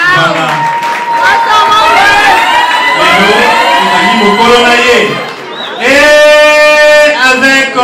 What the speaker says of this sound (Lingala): Merci beaucoup sous vos applaudissements